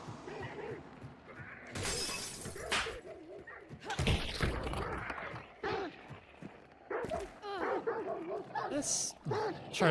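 Dogs barking and whimpering inside a sniping video game, short sharp yelps scattered across the clip amid game sound effects and a crash, with someone talking over them.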